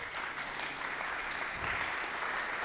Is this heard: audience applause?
yes